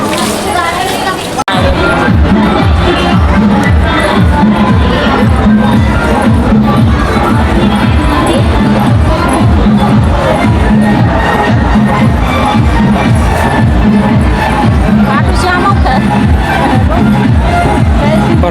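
Dense babble of a large crowd fills the space, many voices overlapping in a steady, loud hubbub with shuffling movement and occasional cheering, close around the listener throughout.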